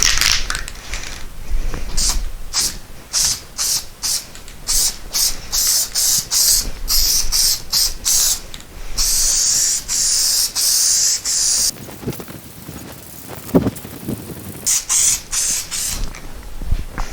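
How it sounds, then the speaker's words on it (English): Repeated short hissing bursts of spray adhesive onto a VW GTI car headliner, close and loud, fired in a quick rhythmic series with a few longer sprays between them. "I'm going to probably do about a foot area along here of spray adhesive"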